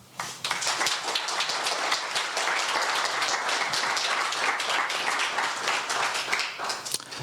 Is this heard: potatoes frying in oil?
no